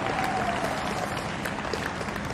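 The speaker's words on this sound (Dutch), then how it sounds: "applaus voor jezelf" Crowd applause at the 2023 ABN AMRO wheelchair tennis doubles finals, a continuous dense wash of clapping from a large audience that stays loud and even throughout.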